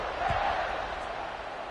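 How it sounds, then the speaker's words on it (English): Stadium crowd buzzing after a score in the NCAA 26 college football video game, a dense, constant roar of many voices with a brief whoop near the start. "this crowd is buzzing after that last score"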